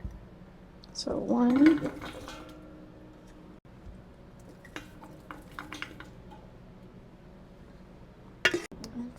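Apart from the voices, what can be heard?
scooping blueberries from a bowl with a quart jar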